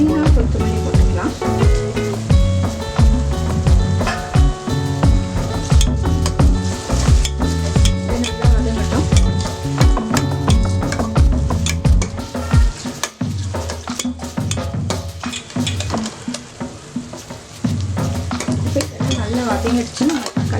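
Mint and coriander leaves sizzle loudly in a pan of hot oil while a spoon scrapes and stirs them steadily, with clatters and crackling throughout.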